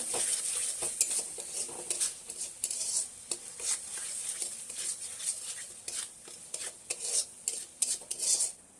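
Okra cooks in a pan with salt and tomato, a spatula stirring and clinking repeatedly against the metal over a light sizzle, close and uneven in rhythm with no talking.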